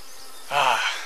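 Honey bees buzzing at an opened hive: a brief, close buzzing swells in for about half a second over quiet background, then fades.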